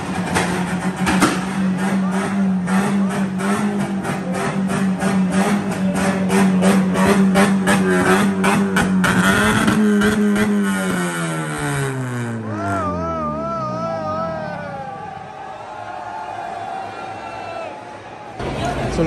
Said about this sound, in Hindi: अब अपनी गाड़ियां जो है ना एक्सेट कर रहे हैं हम लोग।